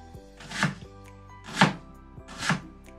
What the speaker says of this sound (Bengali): কাঁদছি না, পেঁয়াজ কাটছি